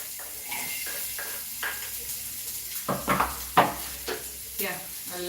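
Onions drop into a little oil in a pan and start to sizzle, with clattering pan and utensil knocks and a faint frying hiss; someone talks over it.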